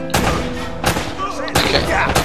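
Loud bursts of video game gunfire in Uncharted: Drake's Fortune crack in quick succession, several sharp shots close and harsh, with a chaotic rumbling background between them.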